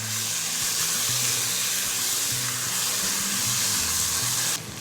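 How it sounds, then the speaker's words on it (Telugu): Grated raw mango frying in oil in a pan for mango pulihora, a loud continuous sizzle and hiss with low stirring scrapes underneath, dropping slightly at the very end. "మామిడికాయ తురుము ఎక్కువగా వేగాల్సిన అవసరం లేదండి, జస్ట్ కాస్త మెత్తబడితే సరిపోతుంది."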